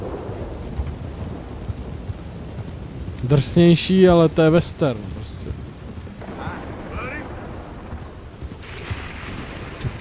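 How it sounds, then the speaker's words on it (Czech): A thunderstorm with rain in the Red Dead Redemption 2 video game: a steady wash of rain and low rumbling continues throughout, while someone speaks briefly over it in the middle. "Dneska hodně bouře"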